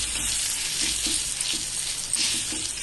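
Cabbage omelette batter sizzles steadily in an oiled pan, a close, continuous bright hiss with faint soft taps underneath.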